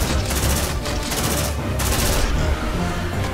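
Squad gunfire in the video game Aliens: Dark Descent on Nightmare difficulty: a dense, loud, continuous barrage of close automatic fire with overlapping shots and booms and no break.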